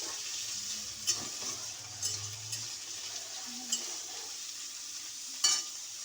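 Dal ingredients fry softly in a pan while a spoon stirs them, giving a quiet sizzle with several sharp scrapes and clinks of utensil against metal spaced a second or so apart.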